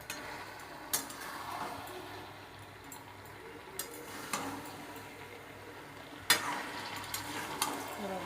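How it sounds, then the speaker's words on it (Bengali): Mixed vegetables with turmeric stirred in a frying pan: a quiet, low sizzle with spaced spatula scrapes and clicks against the pan. "এবার সবজিটাকে একটু ভালো করে নেড়ে নেব"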